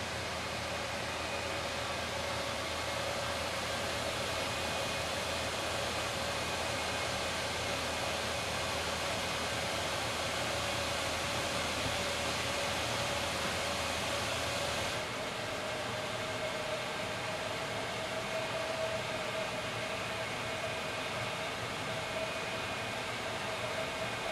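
An engraving machine runs at a steady, continuous whir and hiss throughout while carving a timber board, with a slight shift in tone partway through and no talking.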